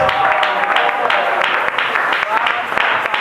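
A church congregation at a French-language service applauds in a sustained, dense burst of clapping, with voices audible in the mix.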